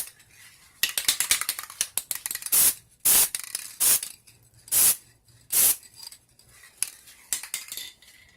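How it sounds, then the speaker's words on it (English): A spray can of NeverWet hydrophobic coating hisses in a string of short bursts, some brief and some about half a second long, mixed with can rattling and clicking close by. "You gotta have that good spray can skill."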